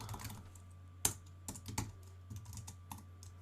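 Keys clack on a computer keyboard while CSS code is typed, a sparse run of close, crisp taps with a few sharper strokes over a steady low hum.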